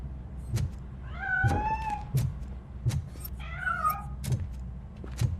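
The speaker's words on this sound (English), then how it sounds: "That cat must be hiding inside." A cat in the video game RoboCop: Rogue City meows twice with drawn-out, wavering cries, between sharp clicks and a low steady hum in the background.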